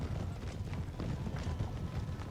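Cavalry horses gallop across a battlefield in the video game Napoleon Total War, their hooves a dense, continuous rumble of overlapping beats at moderate volume with no talking.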